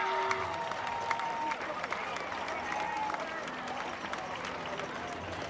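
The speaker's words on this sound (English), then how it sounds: "Let's give them a big round of applause." Parade spectators clapping along the street at the Strolling of the Heifers parade, a moderate, fairly distant wash of applause with scattered individual claps and background crowd noise.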